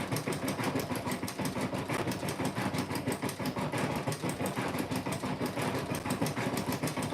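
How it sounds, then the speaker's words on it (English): Embroidery machine stitching a heart in tatami fill and then satin stitch, a fast, steady mechanical rattle of needle strokes that runs continuously and close by. "Sew in that heart, so tatami stitch, and then a satin stitch to make the heart."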